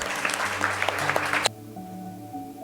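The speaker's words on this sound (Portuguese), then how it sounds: "Vamos aplaudir Jesus." A church congregation at a family service claps for about a second and a half, then the clapping cuts off, leaving soft sustained organ or keyboard tones.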